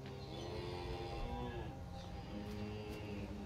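A cow moos in Skyrim, a long, low, drawn-out bellow that rises and falls, then a quieter second call, heard faintly over steady ambient game sound.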